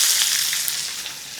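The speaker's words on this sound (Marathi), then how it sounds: "याच कढईमध्ये चमचाभर तेल गरम करूयात, आणि हा उभा चिरलेला कांदा घालूया." Sliced onion hits a spoonful of hot oil in a kadhai and gives a loud, bright sizzle at close range. The sizzle fades slightly over a second or so.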